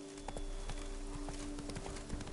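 Hoofbeats of Roach, the horse in The Witcher 3, clip-clopping at a steady galloping rhythm, with repeated sharp strikes over constant game ambience and a faint background tone.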